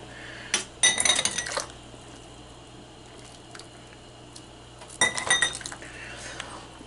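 Glass clinking as stock is ladled into a plain glass in a home kitchen, two short bursts of bright clinks and liquid sounds separated by a quiet stretch with a low hum.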